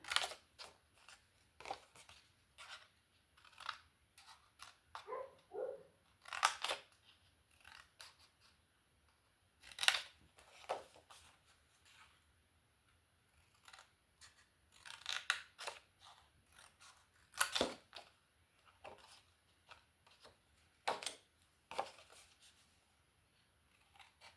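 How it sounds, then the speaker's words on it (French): Scissors cutting paper for a scrapbooked jewelry box, a string of short, crisp snips in irregular bursts with quiet gaps between them, close up and with no talk. "Et là, on n'a plus qu'à couper."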